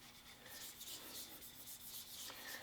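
Hand rubbing smooths the original wood finish on a 1905 Ithaca, making a soft, continuous hissing friction with rhythmic back-and-forth strokes, close but faint, with no talking.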